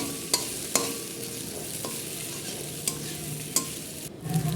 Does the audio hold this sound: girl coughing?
no